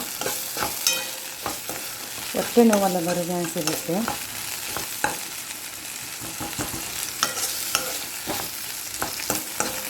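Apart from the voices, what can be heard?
tempering sizzling and being stirred in ghee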